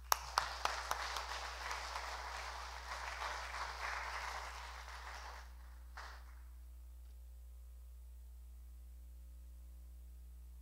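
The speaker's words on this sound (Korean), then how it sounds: "여러분 뜨겁게 박수로 맞아주시면 감사하겠습니다" A church congregation at a Sunday worship service claps to welcome a pastor, a brief burst of applause that starts with a few sharp claps, swells into moderate clapping, then stops abruptly and leaves a low electrical hum.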